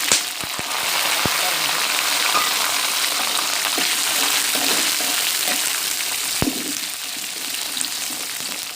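Onions frying in a pan with curry leaves for a country chicken curry, a steady close sizzle running throughout with a few sharp clicks of a utensil.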